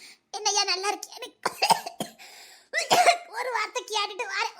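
Repeated harsh coughing fits from a person, loud and close, several bursts with short gaps, mixed with voiced sounds and speech between coughs.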